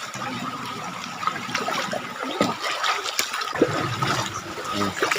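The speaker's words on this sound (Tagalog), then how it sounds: "Ito kami, naliligo kami sa ilog." Water splashing and trickling in a mountain river as people bathe, a steady wet wash with brief louder splashes, close by.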